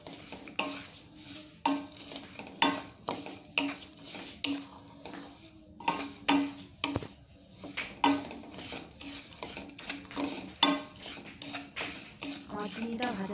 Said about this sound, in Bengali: আমার চিনিটা ভাজা ভাজা করা হয়ে গিয়েছে